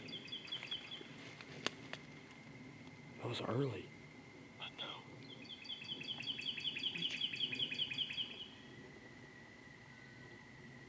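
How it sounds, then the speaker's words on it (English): Bird calls ring out outdoors during a turkey hunt: a short sharp note, then a quick series of repeated chirps, heard over people talking nearby. "You heard that bird?"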